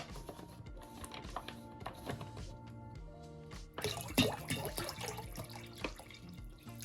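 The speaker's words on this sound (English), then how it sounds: "I'm gonna add some sparkling water." Sparkling water is poured into a Jamaican rum punch of lime and lemon juice. A faint fizzing splash swells midway and continues over soft background music.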